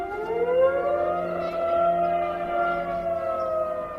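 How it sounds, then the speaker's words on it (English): A town civil-defence warning siren wails steadily, a loud sustained tone that slowly rises in pitch and then holds, with no voices over it. "should there be a ring of that siren, not at 12 o'clock on a Saturday, you better take heed"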